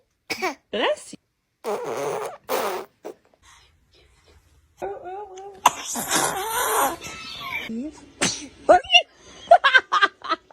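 A baby gives a series of short, close sneezes and snuffly bursts, with an adult talking and brief laughter between them.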